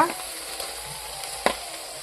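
Potato and radish frying in a spiced yogurt masala, a steady low sizzle running through with a brief sharper clatter near the middle, no talk.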